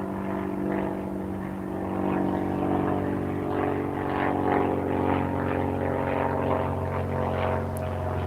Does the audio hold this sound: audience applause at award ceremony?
no